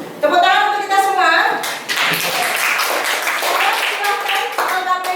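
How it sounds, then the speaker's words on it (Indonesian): A group of students claps together in a classroom after group presentations, with a burst of hand claps at the start giving way to steady clapping while a child's and an adult's voices chatter over it. "Tepuk tangan untuk kita semua."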